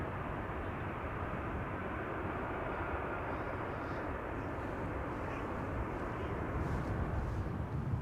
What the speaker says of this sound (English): Finnair is also coming in, but it is not an A350, it's an A321 arriving from bloody Helsinki.